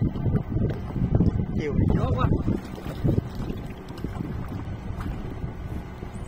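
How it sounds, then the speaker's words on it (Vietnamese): Strong wind blowing across a lotus field from a small boat, a constant loud roar buffeting the microphone for the whole stretch. "chiều này gió quá"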